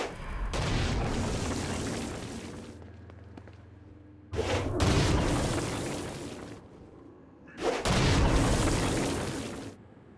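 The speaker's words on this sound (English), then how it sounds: "Stone Blast is especially useful on flying demons like this one." Three heavy Stone Blast explosions from the video game Saints Row: Gat Out Of Hell, each a sudden loud boom that rumbles and decays over a few seconds, separated by brief quieter gaps.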